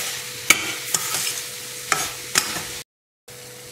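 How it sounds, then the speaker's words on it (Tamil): Paneer bhurji with softened onion and tomato being stirred in a pan, close spoon scrapes and taps knocking several times over a soft sizzle, then a brief silent gap before the sizzle resumes. "200 கிராம் பன்னீர் அதையும் போட்டுக்கலாம். இதை நல்லா மிக்ஸ் பண்ணி விட்டுறணும்."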